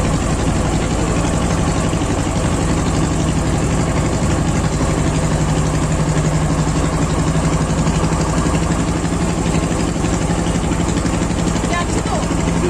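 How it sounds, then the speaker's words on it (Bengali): Fishing trawler engine idling on the Karnaphuli river, a loud steady low drone with constant vibration throughout, alone without talk. "এটা হচ্ছে একটা মাছ ধরার ট্রলার।"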